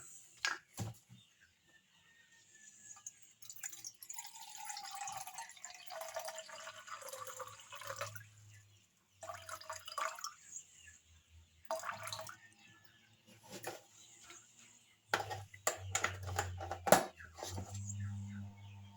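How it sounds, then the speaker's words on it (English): Distilled water trickles and splashes into a container while being measured for homemade aloe vera soap, quiet intermittent pouring bursts separated by near-silent pauses, with small clinks and handling noises close by. "I'll be measuring out my water, and the water that I'll be using for this soap is distilled water"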